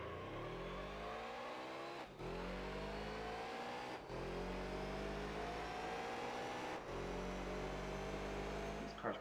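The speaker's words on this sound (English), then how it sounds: "now we have the Corvette Z06" Corvette Z06 engine in the Gran Turismo 3 racing game, revving steadily with rising pitch sweeps, briefly dropping off around gear changes before climbing again; loud and continuous, with no talk.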